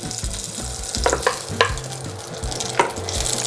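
Celery, carrot and garlic frying in olive oil in a pan, a steady close sizzle with a few brief clicks and stirring knocks.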